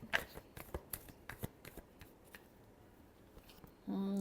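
A deck of tarot cards is shuffled close by, with a quick series of crisp riffles and flicks, then a brief pause before a louder sound begins at the end.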